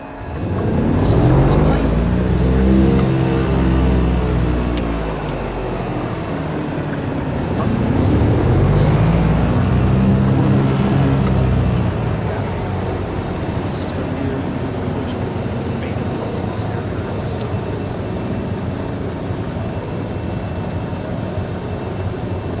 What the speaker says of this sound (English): Let's go ahead and get the engine started.